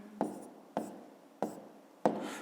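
Pen writing on paper in four separate bursts of scratchy strokes, each starting sharply and trailing off, close and clear with no talk.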